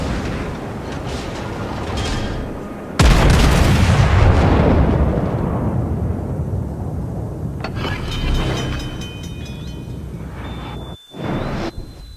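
Heavy warship guns boom in a naval video game as a battleship fires, a sudden loud blast near the three-second mark followed by a long rumbling decay, with further mechanical clanks and shots later on.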